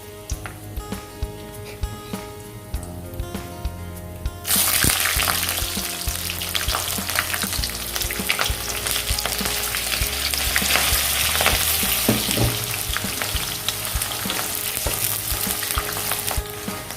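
Onions frying in hot oil with panch phoron and a bay leaf, being stirred. A soft start gives way to a loud, continuous close sizzle, with stirring scrapes throughout.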